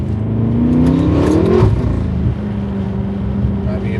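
A BMW F10 M5, a rear-wheel-drive car with a dual-clutch gearbox, revs loudly up close. Its engine note climbs in pitch and then drops back to a steady rumble.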